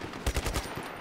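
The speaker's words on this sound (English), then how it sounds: "You can hold shift and keep shooting at the enemies and boom." A quick burst of automatic gunfire in the action game Just Cause 3, five or six rapid shots in under a second, punchy and close.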